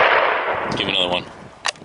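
Rifle shot at a cinnamon black bear about 150 yards away during a spot-and-stalk hunt, a single sharp loud crack near the end following a stretch of rushing wind and field noise.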